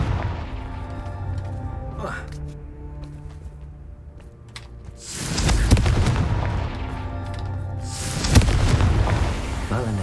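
A Confringo blasting spell goes off in Hogwarts Legacy as two loud, booming explosions, a few seconds apart, each a deep rumbling burst that lingers, with quieter game sounds between them.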